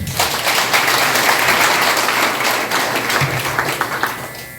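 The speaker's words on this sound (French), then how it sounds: "Sur vos applaudissements, s'il vous plaît." A graduation ceremony audience at a professional school breaks into sustained, dense applause that fills the hall steadily and starts to taper toward the end.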